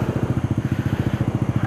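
A group of motorcycles idling together before a pre-dawn group ride, a loud, steady throbbing putter with an even rapid pulse, close by and without speech.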